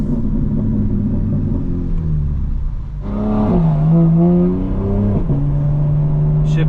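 A 2025 BMW M4 Competition xDrive revs hard and loud up close, its pitch climbing through gears with a gear change and burbling between pulls, a continuous deep rumble throughout.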